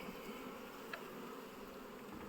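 Bees buzzing steadily at an open horned beehive during a colony inspection after a cold spell, a close continuous drone with no pauses.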